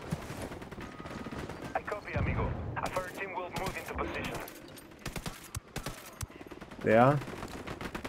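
Bursts of automatic and single-shot gunfire ring out in the tactical shooter Tom Clancy's Ghost Recon during an extended firefight, rapid crackling volleys near and far under radio chatter and someone speaking briefly.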